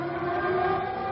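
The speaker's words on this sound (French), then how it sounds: "Pour la première fois, le cri des sirènes devient un chant." Sirens wail across Paris at the Liberation, a steady, sustained rising tone that holds without a break, fairly loud and distant-sounding, with no voices.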